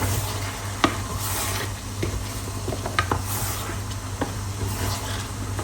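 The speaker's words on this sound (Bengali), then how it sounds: "এবার ডাল আর লাউটা মিক্স করি।" Lentils and bottle gourd stirred together in a pan for a lauki dal with egg, giving steady scraping and soft sizzling with a few sharper clinks of a spoon against the pan, close by and with no talking.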